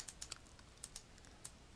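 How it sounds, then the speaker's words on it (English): Several quick, light clicks from a computer keyboard being tapped, including the delete key, sparse and irregular against a quiet background. "hit delete on my keyboard"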